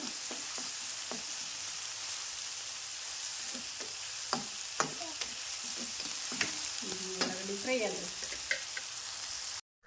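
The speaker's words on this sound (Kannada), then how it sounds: "ಈಗ ಉಳ್ಳಾಗಡ್ಡಿ ಗೋಲ್ಡನ್ ಕಲರ್ ಬರೋ ತನಕ ಫ್ರೈ ಮಾಡ್ಕೋಬೇಕು" Onions frying in a pan until golden, a soft continuous sizzle broken by scraping stirs and clinks of a spatula against the pan, close and fairly quiet, no talk.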